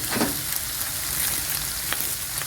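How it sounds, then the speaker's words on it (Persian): Chunks of meat and onions sizzle steadily in a hot pan for a Shirazi cabbage rice dish, a close, continuous frying hiss with occasional stirring scrapes and no talk. "گوشت ها رو با پیاز ها تفت میدیم"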